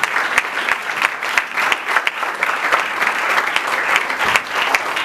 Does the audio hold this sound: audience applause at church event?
yes